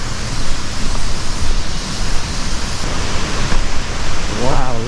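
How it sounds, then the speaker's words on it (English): Constant roaring rush of the Uma Anyar waterfall in Bali, a loud broadband wash of falling water heard close, with a brief voice near the end. "So I can hear the water now."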